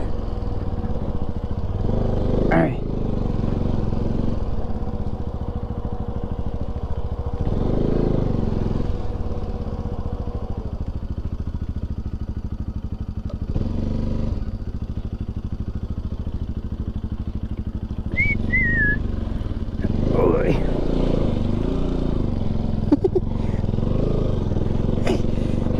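A motorcycle engine drones steadily while riding along a muddy village road, its rumble rising in a few brief surges, with people talking over the ride.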